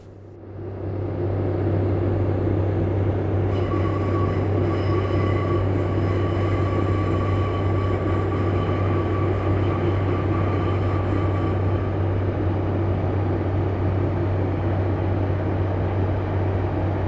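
A Class 143 Pacer diesel multiple unit in a train simulator game, running steadily along the Dawlish sea wall, with a deep engine drone and a rumbling rise as it gets going, then a sustained rolling roar with a faint whine.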